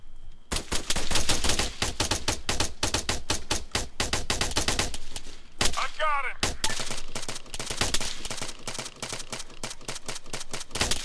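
Rapid automatic gunfire in the Arma 3 video game, dense bursts cracking loud and close for nearly the whole stretch, broken briefly by a whooshing projectile sound mid-way before the shooting resumes.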